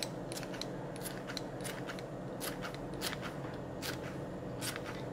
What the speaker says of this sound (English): Get you some kitchen scissors.